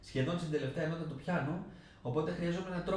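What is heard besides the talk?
No everyday noise stands out behind the speech.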